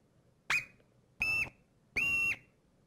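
Three separate whistles from an Olympic marmot, the alarm call, each sharp and clear with a slight rising onset and a flat held tone, the later two longer, spaced about 0.7 seconds apart against near silence.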